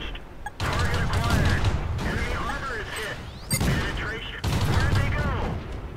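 Tank cannon and machine-gun fire in the video game World of Tanks, a dense continuous barrage of shots and bursts with sharp blasts, loud and steady, under excited talking throughout.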